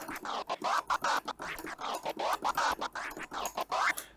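Transformer scratching on a DJ turntable record: a vinyl sample chopped into rapid stuttering bursts by quick fader cuts, dense rhythmic pulses at moderate level with no talking.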